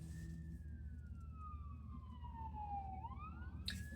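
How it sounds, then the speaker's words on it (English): An ambulance siren wails in the distance with a single slow tone that glides downward, then rises again near the end, faint over low traffic rumble, with no talking. "you got the ambulance here, finna go to a destination"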